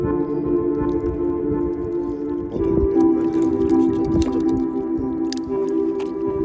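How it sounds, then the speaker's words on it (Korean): A cold mud volcano in Azerbaijan bubbling up close, with continuous wet squelching, gloopy pops and dripping sounds over a low steady rumble, and no talking. "진짜 왜 보글보글 거릴까?"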